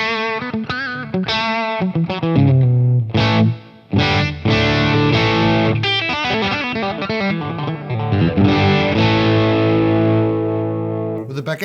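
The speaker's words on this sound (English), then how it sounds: "You can really hear the spank of the telly coming through." A Telecaster played through a Way Huge Pork & Pickle overdrive with the full clean signal blended in gives a bright, twangy, driven tone as a busy run of picked notes and chords rings out loud, with no talking.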